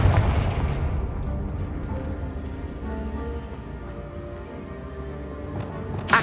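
A Confringo explosive spell blasts in Hogwarts Legacy with a loud, sustained booming roar that crackles on, then ends in a sharp burst.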